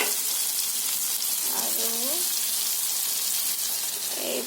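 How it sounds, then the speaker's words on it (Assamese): Pointed gourd and potato pieces sizzle steadily in a pan, a dense continuous frying hiss that stays close and even, with a brief spoken word partway through. "বনাই আছোঁ পটল আলু ভাজি"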